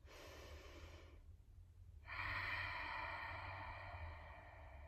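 Steady ujjayi-style breathing through the nose with the mouth closed and tongue at the roof of the mouth, a soft hissing throat rasp on the exhale, a brief pause, then a louder, fuller breath, close and alone.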